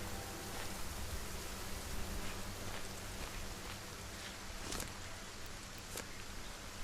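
Steady rain falls in the survival crafting game Solar Punk, a constant broadband hiss with occasional sharper drop taps, heard alone at moderate level without any talk.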